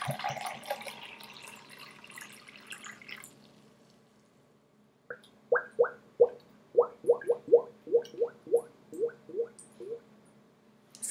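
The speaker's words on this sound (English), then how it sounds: "my gurgle jar is shaped like a fish, so it reminds me of the ocean. And then it even sounds a bit like the ocean." Water poured from a fish-shaped ceramic gurgle jug gives a rapid series of about a dozen hollow, bubbly glugs, close and clear, after a softer stretch of splashing pouring.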